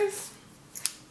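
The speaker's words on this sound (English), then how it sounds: "You're going to get your scissors," Scissors snip through crochet yarn, giving a couple of short, quiet metallic clicks near the end after a soft rustle.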